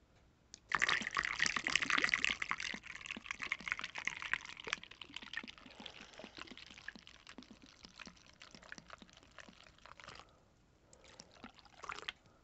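Vodka pours steadily into a glass jar over vanilla beans for homemade extract, a continuous liquid splashing and trickling that thins toward the end, then one last short splash of pour.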